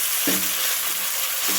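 Tomatoes dropped into a pan of frying bitter gourd: a loud, dense, close sizzle with a brief louder burst at the start and another near the end, no speech.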